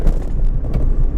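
Inside a 1990 Honda Acty van with a manual gearbox, the engine hums and road noise rumbles as it accelerates, steady and close with small fluctuations.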